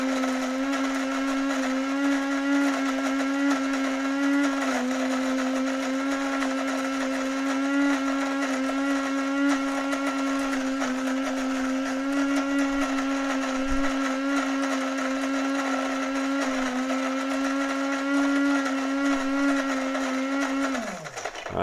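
A single-serve coffee maker runs with a Death Wish dark roast pod, giving a loud, steady droning motor hum with a buzzing tone that holds for about twenty seconds before winding down abruptly.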